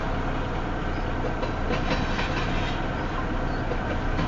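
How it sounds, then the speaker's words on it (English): A Union Pacific stack freight train rolls steadily past, a continuous rumble and clatter of rail cars at moderate distance with no voices. "There's a train making this noise of the Union Pacific."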